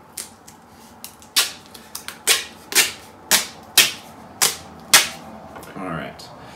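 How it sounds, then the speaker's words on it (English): Adhesive tape pulled off the roll in short, sharp rips to join toilet paper rolls: about ten crackling bursts in an uneven rhythm, close and loud, with a quieter rustle at the end. "we're going to tape our toilet paper rolls together next"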